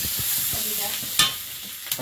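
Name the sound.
chopped onions frying in panch phoron oil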